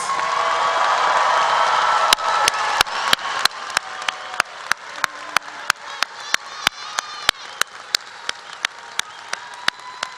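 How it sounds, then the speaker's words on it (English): Commencement crowd at a nursing school graduation applauds and cheers for the graduates, a dense wash of clapping with sharp individual claps popping out rhythmically near the microphone. "Let's give one more big cheer for all of our graduates."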